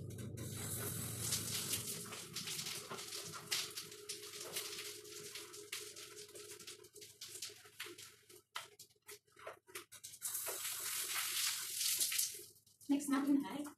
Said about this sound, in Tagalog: Malamig yung tubig ko. Hindi ko siya umiinit.